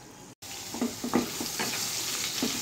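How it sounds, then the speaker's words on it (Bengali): Potatoes frying in a pan, a steady broadband sizzle with intermittent scraping stir strokes close by, after a brief dropout at the start; no talking. "মোটামুটি আমার আলুটা ভাজা হয়ে গেছে।"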